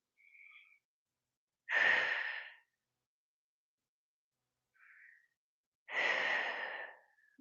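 Two deep, breathy exhales during a stretch, each about a second long, come a few seconds apart, with faint short breaths before each in an otherwise silent room.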